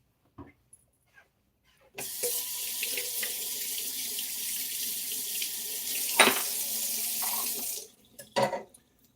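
Water gushes from a sink tap during dishwashing, starting abruptly and running loud and steady for several seconds with clinks and handling noises before shutting off, followed by a few brief knocks.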